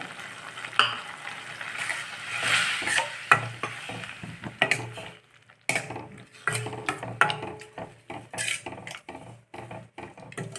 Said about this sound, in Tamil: இப்போ பருப்பு சேர்த்துடலாம் இதில்